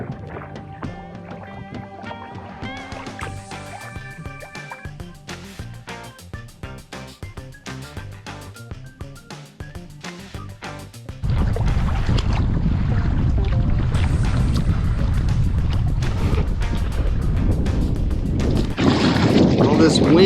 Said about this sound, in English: Keep on paddling. One paddle stroke at a time.